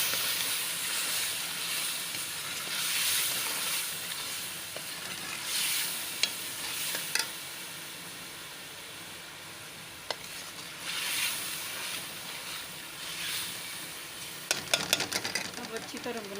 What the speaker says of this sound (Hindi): ये चावल और आलू की अच्छी तरह बुनाई होगी।